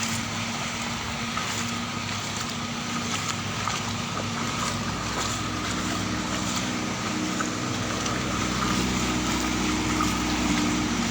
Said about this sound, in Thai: นี่นะครับน้ำไหลเชี่ยวมาก